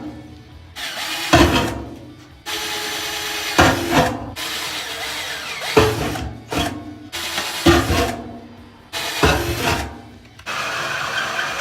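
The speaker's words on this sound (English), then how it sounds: "then I'll drill these little holes as well with a small drill" Bursts of a small drill whirring and grinding through wood, several short runs separated by brief pauses, close and fairly loud.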